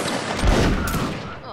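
Musket volley in the Napoleonic Wars mod of Mount and Blade Warband during a line battle, a short loud burst of overlapping gunfire that rolls and fades.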